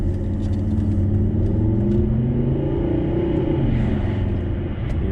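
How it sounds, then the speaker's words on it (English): A 2009 Volvo S80 D5 five-cylinder diesel engine accelerating, giving a loud, steady, deep rumble that holds for the whole stretch with no talking. "You can hear that 5-cylinder engine"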